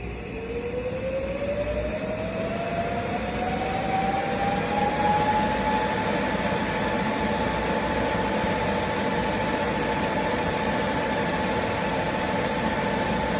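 Foot-pedal-controlled edge weld on metal, giving a continuous arc hiss with a thin tone that rises as the pedal goes down, then holds steady, heard close with no speech.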